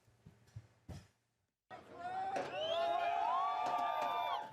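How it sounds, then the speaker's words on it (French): Crowds of Rostov residents cheer and shout as Wagner group forces depart, a sustained wash of voices and whoops rising after brief clatter and a short pause, heard at moderate distance. "Sous les acclamations de nombreux habitants, les forces du groupe Wagner quittent Rostov"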